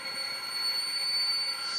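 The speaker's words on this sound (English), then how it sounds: "So a high note on the violin might sound like this." A very high note bowed on a violin, held as one thin, piercing, steady tone for about two seconds with nothing else around it.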